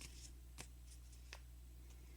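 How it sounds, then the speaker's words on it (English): A deck of cards being shuffled close by but very quietly, a few soft riffling bursts over a low steady hum, no talking. "I don't know why I'm shuffling this deck again"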